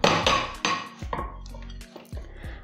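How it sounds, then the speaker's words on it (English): Clinks and clatters of a plate set down on a metal baking tray for a raspberry pavlova, several sharp ringing knocks close up with short metallic decay, no voices. "I've got the baking tray that the meringue is going to be cooked on, and you just put the plate on top"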